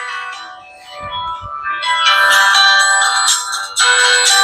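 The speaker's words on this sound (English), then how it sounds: "There goes my phone." A phone rings with a loud electronic melodic ringtone in an auto upholstery workshop, repeating tones that swell and continue steadily without talk.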